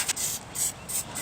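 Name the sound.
cooking spray sprayed into a Dutch oven liner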